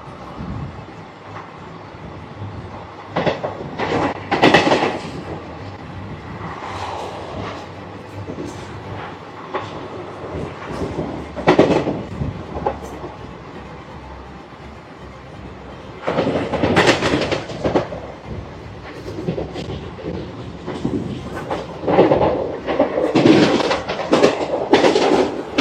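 A train runs through Pendurthi railway station without stopping, on the Koraput to Visakhapatnam line through the Eastern Ghats. A steady rumble and clatter of wagons swells in uneven surges, with no voices.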